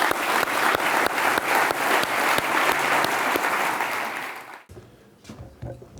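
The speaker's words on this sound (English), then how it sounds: "A round of applause to our speakers." Audience at a renewable energy summit applauds the panel speakers, a dense, steady wash of clapping for about four and a half seconds that then cuts off abruptly into near silence with faint room noise.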